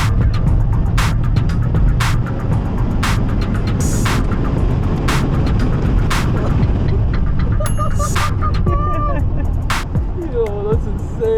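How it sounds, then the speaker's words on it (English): A race car at full throttle gives a loud, continuous engine roar with sharp clicks and rattles, while voices talk over it throughout. "As soon as I stop and like smash the throttle, it's like I'm in a sci-fi movie"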